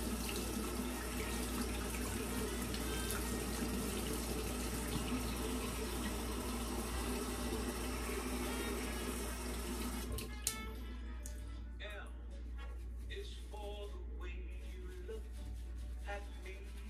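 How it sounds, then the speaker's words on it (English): Hot water gushes from a tap in a steady, loud rush for about ten seconds, then cuts off, leaving quiet background music and faint handling sounds. "Just my hot water here."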